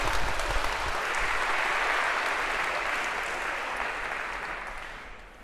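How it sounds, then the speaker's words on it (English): Lecture-hall audience applauding volunteers at a university computer science class, a steady dense wash of clapping from many hands that holds throughout and tapers slightly at the end. "Maybe a round of applause for our first volunteers of term."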